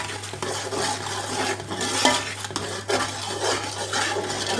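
Vegetable rice mixed with ground green chillies is stirred in a pot, with a spoon scraping and clinking against the metal in a steady, close rhythm and no talking.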